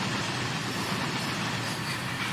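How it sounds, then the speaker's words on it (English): A long freight train rolls past at speed in the Train Sim World 2021 video game, a dense steady rumble and roar of wagons and wheels, loud and unbroken, with no voices. "There's a little bit more of the train there."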